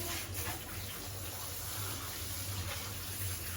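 Water running steadily from a tap while a dog is washed, a continuous close splashing flow with an even level throughout and no talk.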